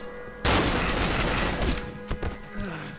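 Burst of gunfire in the horror video game Cry of Fear, a loud sudden onset of rapid overlapping shots followed by a few sharper separate cracks, with faint voices underneath.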